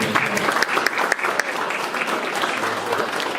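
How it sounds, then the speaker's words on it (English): An afternoon audience at a country showgirl competition event claps steadily, a dense patter of many hands sustained at moderate loudness for a few seconds. "And give yourselves all the clap for coming along and enjoying the afternoon."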